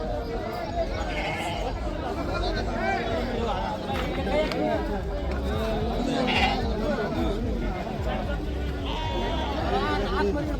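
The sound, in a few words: sheep bleating at sheep market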